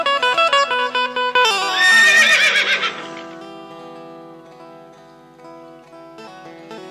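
A horse neighs loudly and shrilly for a horse-drawn carriage, the whinny rising and trailing off over a sustained musical backing.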